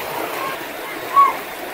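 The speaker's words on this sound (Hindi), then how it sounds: "तो ये है वो झरना, मंदिर के ऊपर से आता है ये पानी, छोटा वाला" A small waterfall spills down from above a temple, giving a steady, moderately loud rush of flowing water with a short brighter splash surge partway through.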